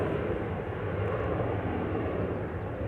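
A plane departing from runway 18 left at Amsterdam Schiphol Airport, a steady loud roar of jet engines with broad rumble held constant throughout, with no talking.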